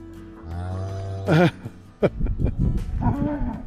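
A cow lets out a long, drawn-out moo close by, followed by shorter rising and falling moos and grunting calls, loud against a quiet outdoor background.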